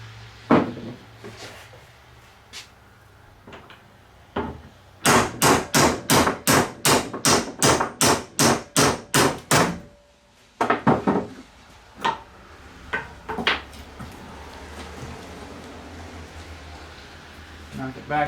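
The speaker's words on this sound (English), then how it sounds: "And now we actually need to hammer this back the other way." A U-joint being hammered back through its yoke in a garage: scattered knocks, then a fast run of about a dozen sharp metal blows, followed by more irregular strikes, with brief talk and steady background hum.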